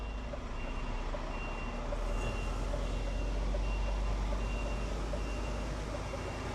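A delivery truck backing up on a Bournemouth high street sounds a steady repeating reversing beep over a constant engine rumble, fairly close and with no talk.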